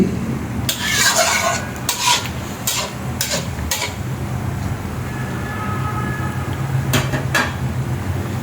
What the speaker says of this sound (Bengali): একটু হালকা নাড়াচাড়া দিয়ে দিতেছি